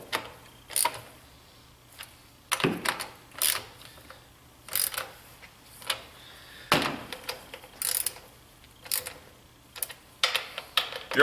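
A wrench tightens the bolts on a battery, giving short bursts of ratcheting clicks that repeat every second or so, close and fairly crisp.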